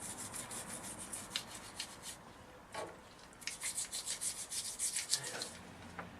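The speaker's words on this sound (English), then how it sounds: "So I'm just going to put that in that and clean the caliper." A toothbrush scrubbing a Honda CBF 600 motorcycle brake caliper with Brake Clean: close, steady back-and-forth bristle rubbing in rhythmic strokes, pausing briefly, then a faster run of scrubbing strokes with no talk.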